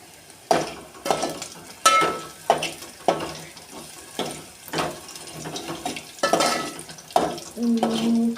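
Garlic fries in a pan until brown for a dal, with a soft sizzle under repeated rhythmic bursts of stirring and scraping close by, roughly every half second to second.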